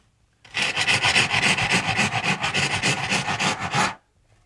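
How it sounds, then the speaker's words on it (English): A rasp scrapes a carved sculpture in quick repeated strokes, a dense rhythmic rasping that starts after a short pause and stops abruptly just before the end, heard up close with no talk. "rasp"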